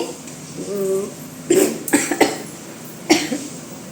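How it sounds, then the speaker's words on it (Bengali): A person coughs suddenly several times in quick bursts at close range after a brief voiced sound. "হঠাৎ কাশি হয়ে যাচ্ছে"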